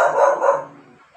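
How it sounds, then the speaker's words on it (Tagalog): A dog nearby gives a couple of quick, loud barks that run together and then fade away, with no talk during the barks. "pasensya na kayo, maingay itong aking aso."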